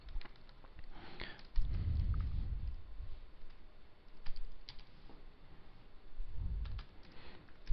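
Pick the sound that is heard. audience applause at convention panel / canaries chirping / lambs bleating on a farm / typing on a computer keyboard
typing on a computer keyboard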